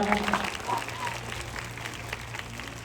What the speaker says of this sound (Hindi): भैया एक बार जोरदार तालियां।